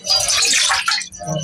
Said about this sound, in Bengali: আমি এখন জল নিয়ে নিলাম